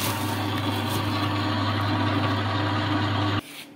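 Planetary cake mixer on a 220-volt supply running steadily in first gear, a constant close mechanical hum with a strong low drone that cuts off abruptly near the end.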